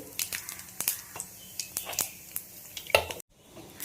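Dry chillies, mustard seeds and cumin sizzle in hot oil while preparing lentil dal with bottle gourd, with close crackling pops and spatters in an irregular rhythm, ending in a sudden quiet.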